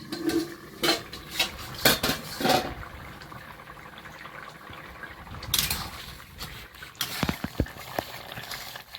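A lid is lifted off a pot of boiling potatoes with a few sharp metallic clanks and clatters, followed by softer bubbling and faint rustling, fairly close and with no talking.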